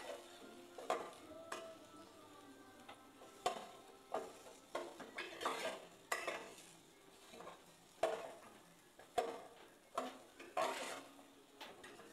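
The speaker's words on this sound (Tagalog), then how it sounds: "Ilagay na natin ang sibuyas. Ayan, halo-haloin lang din natin." Onion is sautéed and stirred in a pan, with irregular spoon scrapes and taps against the metal over a quiet, faint sizzle.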